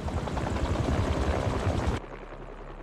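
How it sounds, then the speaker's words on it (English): A helicopter's spinning blades in the video game Marvel's Spider-Man 2 give a loud, dense rotor thrum for about two seconds before cutting off abruptly into quiet. "a helicopter's blades."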